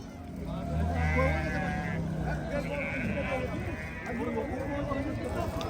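Rams bleating amid a busy, dusty livestock bazaar crowd, several bleats rising over constant chatter and bargaining voices nearby.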